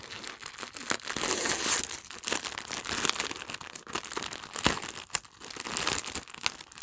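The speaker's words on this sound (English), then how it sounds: "Crinkling, sorry." Crinkly plastic mail packaging around a skein of yarn is handled up close, giving a continuous irregular rustle with sharper crackles and bursts throughout, no talking over it.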